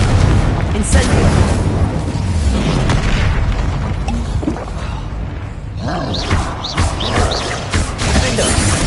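Repeated Incendio fire and Confringo blast spells boom and burst during Hogwarts Legacy video game combat, loud, dense impacts across nine seconds, with shouted voices under the clamor.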